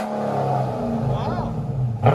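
A 2017 Dodge Charger Scat Pack with a 6.4L HEMI and dual exhaust through Northeastern glass packs rumbles steadily at close range, with a sharper burst near the end and voices talking over the engine.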